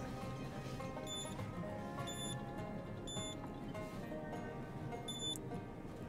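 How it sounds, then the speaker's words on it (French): A car's oil warning chime sounds as a series of high, clear beeps at about one-second intervals over a low, constant background hum. "Il y a l'huile qui sonne encore."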